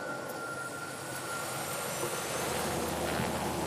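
Crop-dusting airplane flying over a banana plantation, a steady, broad engine drone that builds slightly louder as it passes, with no voices.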